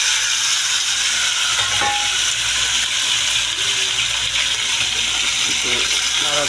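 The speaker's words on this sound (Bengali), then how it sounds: "তো এবার মুরগিটা ঢেলে দেব ভাজার জন্য।" Chicken pieces frying in oil in a pan on a lit stove give a loud, steady hiss and sizzle that runs without a break. Faint clinks and background sounds sit underneath.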